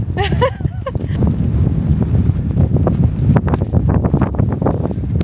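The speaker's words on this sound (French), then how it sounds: "Il y a du vent, hein. il y a trop de vent" Heavy wind buffeting the microphone, a constant loud rumbling roar with gusty crackles, and a brief voice near the start.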